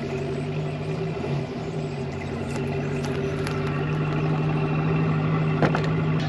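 A truck engine idles and pulls a light trailer with a flat tire forward out of a hole, a steady low rumble close by with a few faint clanks on top.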